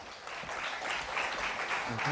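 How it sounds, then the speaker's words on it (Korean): An audience at a stock-investing seminar applauds to welcome the speakers, with moderately loud clapping swelling over about two seconds while voices talk underneath. "큰 박수로 맞이해"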